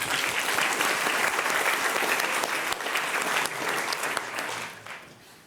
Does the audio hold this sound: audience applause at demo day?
yes